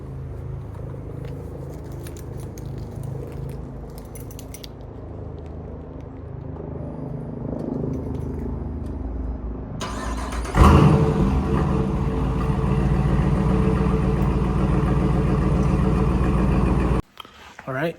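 Dodge Durango engine cold-starting and idling: a low rumbling idle, then a sharp crank-and-catch burst into a louder, steady roar that runs close and continuous before cutting off abruptly at the end.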